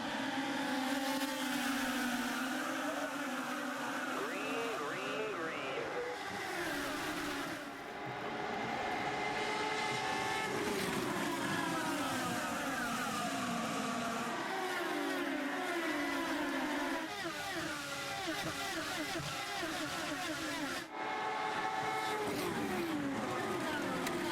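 IndyCar race cars roar past together at a green-flag restart on the New Hampshire oval, a dense wall of high-revving engine noise with rising and falling pitch sweeps as cars pass, loud and continuous with no voices heard.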